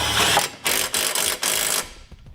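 A ratchet with a 16mm socket tightens a factory bolt on a 2018 Jeep Grand Cherokee during a base plate install. Four quick, loud runs of close clicking are separated by brief pauses, with no talk.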